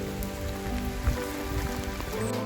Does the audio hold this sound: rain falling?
yes